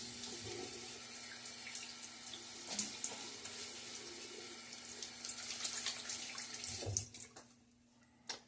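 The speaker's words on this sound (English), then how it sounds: "But now let's get a little splash of water." Water runs steadily from a tap into a sink, a continuous splashing hiss with a few clinks and knocks, stopping near the end.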